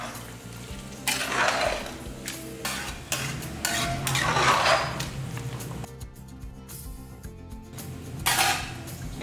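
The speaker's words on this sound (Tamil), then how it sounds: "அந்த மாதிரி கலந்து விட்டுருவோம்" A spoon stirs a mutton pulao mixture in a metal pot, scraping and clinking in bursts with a faint sizzle underneath, close and fairly loud, with short pauses between strokes.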